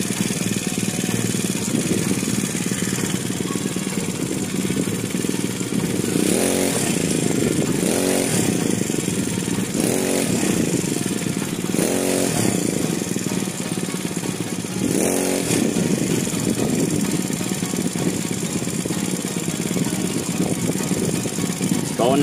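A small Chinese scooter engine revs up in several sharp bursts over a steady idle, showing quicker throttle pickup, loud and close with no voices.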